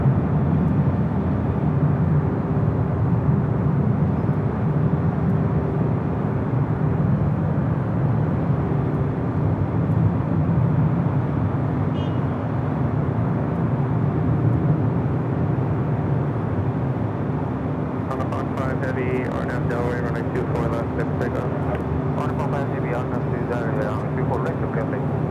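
A Boeing 787-9 Dreamliner jet takes off at LAX, a steady loud roar of engines held for the whole stretch with a voice talking over it and crackly radio chatter later on.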